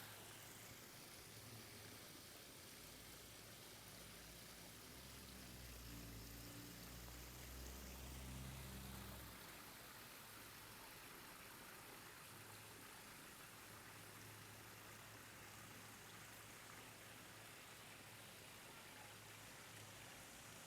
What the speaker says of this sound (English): Let the viewer enjoy the soothing flowing water sound.